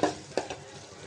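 Vegetable dal with raw papaya and potato tipped into a hot pan, a brief burst of sizzling with a couple of quick stirring scrapes, close and loud, no voice.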